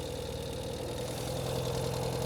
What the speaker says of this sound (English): I'm going to get the bike started.